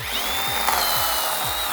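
A power saw cuts into a dead log outdoors on a spring afternoon, its motor droning steadily and close with a rhythmic dip and rise as the blade bites through the wood.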